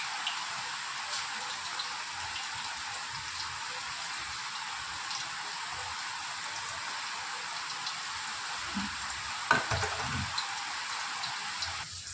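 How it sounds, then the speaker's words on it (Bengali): Shrimp pakora fry in hot oil, a steady, even bubbling hiss that carries through the whole stretch at moderate volume, with a couple of faint knocks near the end and no speech. "আরও যেগুলো আছে সেগুলো আমি ভেজে নেবো সব"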